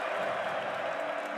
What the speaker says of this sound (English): Fargo Dome crowd back alive